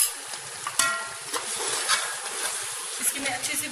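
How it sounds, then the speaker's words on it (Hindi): Beef and yogurt being stir-fried in a pot for bhuna while making beef pulao, a close steady sizzle broken by scraping strokes of a spoon against the pan. "इसकी मैं अच्छे से भुनाई करती हूँ"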